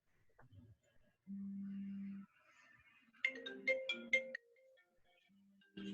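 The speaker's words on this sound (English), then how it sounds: "I bet you whoever phone that was" A phone ringtone goes off during a live online lesson: a long steady electronic tone followed by a quick melodic burst of bright notes, fairly faint and with no talk over it.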